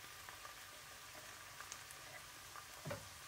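Tuscan prosciutto strips and shallots frying in a pan, a faint, steady sizzle with light scattered crackles and one brief louder pop near the end.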